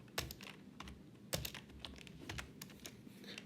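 Fingers tap quickly on a computer keyboard while SQL code is typed, with irregular bursts of crisp, close keystrokes and a louder clack partway through, faint and alone.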